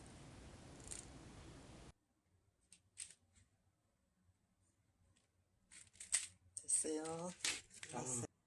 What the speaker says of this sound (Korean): 가위로 쭉 밀면 쉽게 잘라집니다.